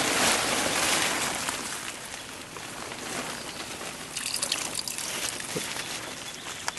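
A pump drawing the last of the water out of an archaeological excavation unit at a Broad River field school, a continuous close rushing and gurgling wash that fades slightly midway, with no talking.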